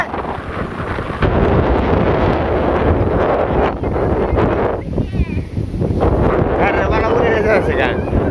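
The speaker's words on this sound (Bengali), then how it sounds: "ঝড় শুরু হয়েছে" Strong stormy wind buffets the microphone in loud, continuous gusts that roar steadily throughout, with a voice speaking over the blustery rush.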